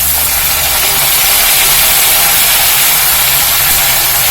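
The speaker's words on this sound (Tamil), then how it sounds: "இந்த கீரையை அள்ளி வச்சு வதக்குவோம்." Chukka keerai greens sauté with onion and garlic in a hot pan, giving a loud, steady sizzling hiss that runs unbroken throughout.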